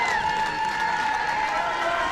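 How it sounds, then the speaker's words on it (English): Roaring stadium crowd cheering after Canada's try in an under-20 women's rugby match against the USA, a continuous wash of noise with a faint whistle-like tone, under a commentator's voice. "The crowd goes eclectic behind us"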